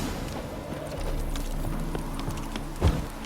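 Horse hooves clip-clop steadily at a walking pace in The Witcher 3, fairly close and moderately loud, with a heavier thump near the end.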